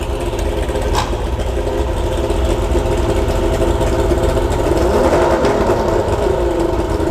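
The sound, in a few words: boat motor idling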